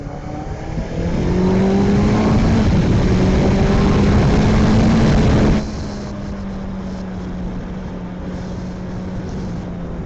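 A 650cc inline-four Honda CBR 650F with ABS, ridden on an Indian road, gives a steady loud engine drone that rises in pitch, then drops to a lower, quieter cruising hum partway through.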